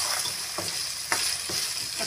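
Three chopped tomatoes are stirred into ginger-garlic paste frying in a pan for ridge gourd gravy: a steady close sizzle with a few sharp spoon scrapes and clacks against the pan.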